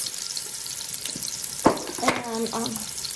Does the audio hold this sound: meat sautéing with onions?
yes